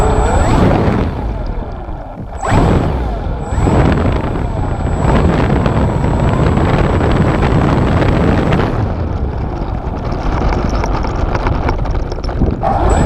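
A small RC airplane's motor whines loud and close as it revs up for takeoff on pavement, rising and holding a steady buzzing drone with wind rushing over the microphone.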